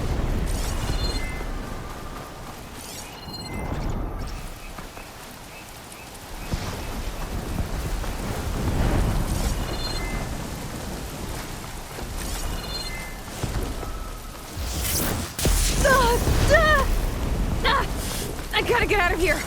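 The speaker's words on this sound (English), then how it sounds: "Electrical disturbance from the storm, maybe?" Storm noise in the video game Horizon Forbidden West: steady rain hiss with low rumbling thunder swells throughout, rising louder toward the end, with faint game effects mixed in.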